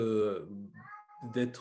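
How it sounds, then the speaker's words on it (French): A house cat meows loudly and close by in a long drawn-out call, then a short higher cry follows after a brief pause, while someone speaks French around it. "Ah, ça, c'est mon chat. Je ne sais pas si tu entends."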